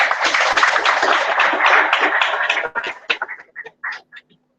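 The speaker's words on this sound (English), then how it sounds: "So there's a big round of applause for all of you." Applause from an audience after a talk, a dense burst of clapping that holds steady for a couple of seconds and then breaks up into scattered, fading claps.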